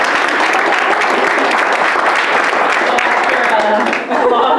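Loud, sustained applause fills a gallery exhibit opening as the crowd claps for the show's curator, a thick continuous roar of hands that dips briefly near the end before swelling again.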